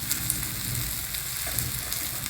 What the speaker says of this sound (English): place it on the hot tawa and gently remove the towel. Add a little bit of oil around.